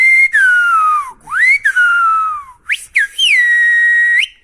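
A Silbo Gomero whistler sends a phrase in the whistled language of La Gomera: loud, piercing whistled glides that rise and fall in pitch, in several sustained segments with brief breaks.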